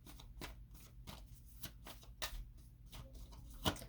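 A deck of tarot cards is shuffled up close in soft, rhythmic riffling bursts, repeated steadily through a quiet room with no voices.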